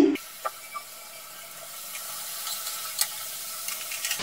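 Nimki, Bengali flour snacks, fry in hot oil in a wok over a low gas flame, giving a steady soft sizzle with a few faint clicks and taps from stirring.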